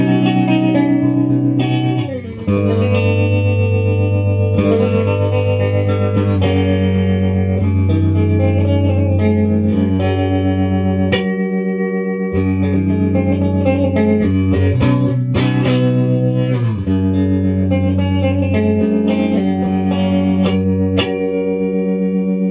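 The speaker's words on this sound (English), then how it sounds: "Nothing beats tube rectifier tremolo." An electric guitar plays sustained chords and notes through an early silverface Fender Princeton Reverb tube amp with its bias-type tremolo on, giving a loud, continuous tone with rhythmic pulsing and reverb, no talk.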